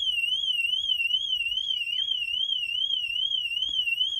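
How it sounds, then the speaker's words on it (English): A BMW car alarm, triggered by its motion detector, wails with a steady warbling tone, continuous and moderately loud, with no talk over it. "Oh, see, now there's the alarm."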